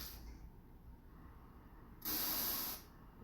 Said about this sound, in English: Radio noise? So that sounds similar to when tapes are played back.